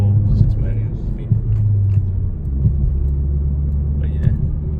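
Steady low exhaust drone from a Chevy Cruze 1.4 turbo four-cylinder with six-speed manual and straight-pipe exhaust, muffler and resonator deleted, holding a rumbling idle close by while someone talks over it.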